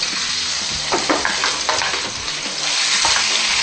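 Garlic and onion sautéing in a pan, a loud continuous sizzle with scraping stir strokes from a utensil repeating every half second or so, close and alone.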